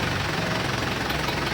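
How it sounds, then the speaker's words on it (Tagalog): An Isuzu Hi-Lander's diesel engine idles with a steady, rough rumble and knocking texture, close by and continuous, with no one speaking. "hindi naman namatay yung makina"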